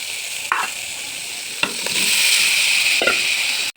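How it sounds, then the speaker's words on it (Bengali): Potatoes and taro sizzle loudly in a wok, frying in the same oil just used for hilsa fish. A steady hiss runs throughout, broken by several sharp scraping clanks of a spatula stirring, with no voices. "এখন আমি একই কড়াইতে আলু আর কচু কষিয়ে নিব।"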